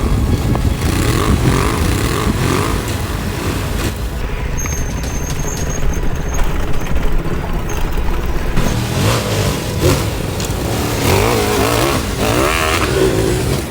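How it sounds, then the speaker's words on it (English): A Ducati V-twin motorcycle engine roars loudly through its exhaust while riding, revving up and down with throaty rising and falling pitch sweeps, close and continuous throughout with no voices. "The sound of the V-twin engine through the exhaust was so intoxicating."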